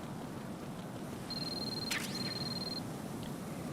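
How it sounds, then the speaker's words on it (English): In Metal Gear Solid 2, a codec cell phone sounds as a single sustained electronic beep with a short sweeping chirp in the middle, quiet over steady game background noise, with no speech. "My cell phone's ringing."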